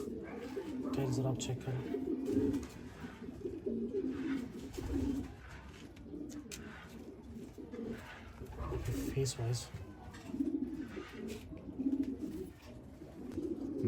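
Pigeons coo steadily in low, throaty repeated phrases in a pigeon loft while someone talks over them in a close, indoor setting.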